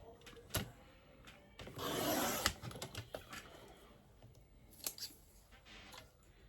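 Scissors snip through a paper branding strip for a scrapbook page, a quiet nearby cut with a brief rustling swell and a few sharp clicks and taps around it.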